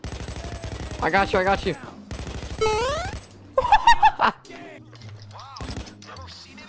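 Sniper gunfire in the heist shooter game Payday 2 comes as rapid, close bursts of shots amid chaotic game effects, with voices speaking over the action.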